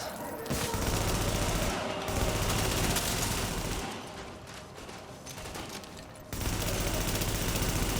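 Turret gunfire in the video game The Division, dense rapid bursts of shots that roar loud and continuous, dip briefly into a thinner stretch, then surge back at full intensity.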